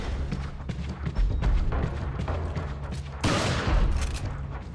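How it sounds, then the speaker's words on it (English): Heavy shotgun blasts boom in Resident Evil 4, several close, loud shots thudding in succession, with the sharpest, brightest blast landing near the end. "Now the better way to do this, pull out my fucking shotgun"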